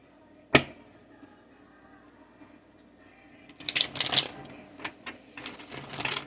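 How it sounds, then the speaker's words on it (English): A sharp tap, a pause, then bursts of riffling tarot card shuffling up close, followed by a few softer flicks and rustles. "I just picked up my tarot deck to shuffle it"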